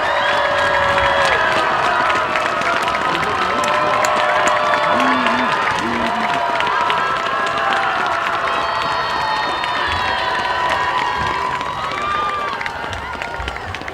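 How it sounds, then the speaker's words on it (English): High school football fans at Ankeny Stadium cheer loudly from the near side during a varsity game, with sustained crowd roar, whoops and shouts that stay dense and close, easing only slightly at the end. "Now listen to the fans on the near side give him a cheer."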